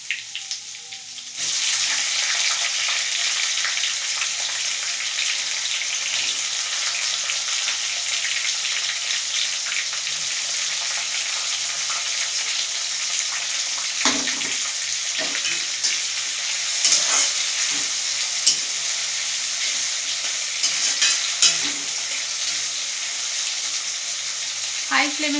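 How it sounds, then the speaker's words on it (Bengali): Ginger-garlic and capsicum frying on a high gas flame for egg and vegetable chowmein, a loud continuous sizzle throughout with occasional stirring clatter, no talk. "হালকা মতো ভেজে নেব। ভেজে নিয়ে আমি ক্যাপসিকামটা দিয়ে দেবো।"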